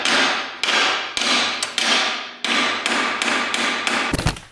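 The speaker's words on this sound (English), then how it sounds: "Had to get my air hammer out to get that off." An air hammer pounds on an ATV A-arm in loud, close bursts of rapid hammering, broken by short pauses, ending in a heavy metallic clunk.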